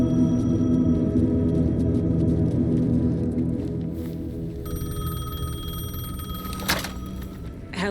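A telephone rings in the video game Alan Wake 2, a sustained bell-like ringing tone over a low ambient drone, fading somewhat midway before a sharper ring returns; no speech.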